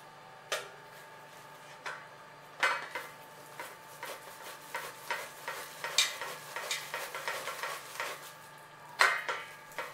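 Wet palm fruit pulp rubbed out by hand with a little water in a kitchen, giving scattered squelching and scraping bursts with a few sharp clinks of a vessel, close and fairly quiet.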